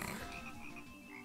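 Frog croaking in the Banjo-Kazooie video game, a low, repeated croak under dense game music and ambience.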